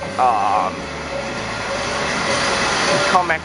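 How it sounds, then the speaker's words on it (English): A Kamen Rider themed train pulls into Watanoha station in Ishinomaki with a steady rumbling roll and brief high squeals at the start and end, while a person talks close by. "So my train is coming."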